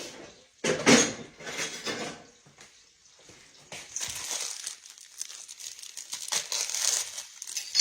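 Kitchen counter crinkling and tearing as a knife slits open a plastic package, with bursts of crisp rustling and scraping that come and go, close up and moderately loud.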